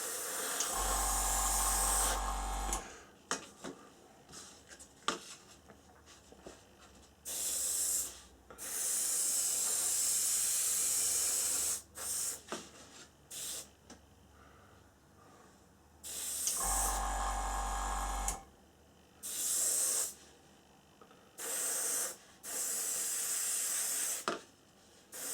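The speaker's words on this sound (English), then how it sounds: "So for the sake of a few seconds work with my airbrush" An airbrush sprays clear coat onto a Revell C-17 Globemaster III model kit in short repeated bursts of soft, steady hiss. Quiet gaps separate the bursts, and there is no talking.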